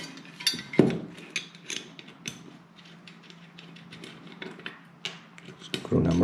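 Small screws on a K&L RC car chassis plate being cracked loose with a hand tool, giving a run of faint metallic clicks and ticks with a few sharper knocks.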